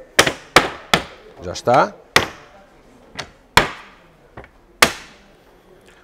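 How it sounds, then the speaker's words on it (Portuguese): A composite deck clip is knocked into place with about eight sharp, close impacts at uneven intervals, each ringing briefly; a short spoken phrase comes in between them. "Aquilo que eu vou fazer agora é encaixar o clipe no lugar dele."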